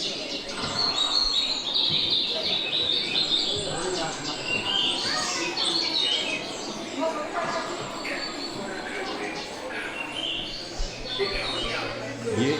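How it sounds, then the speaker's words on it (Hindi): Simulated birdsong fills an indoor digital nature exhibit at a science museum in Guwahati, dense overlapping chirps and tweets playing continuously over a busy background of murmuring visitors' voices. "पक्षी भी चहचहा रहे हैं"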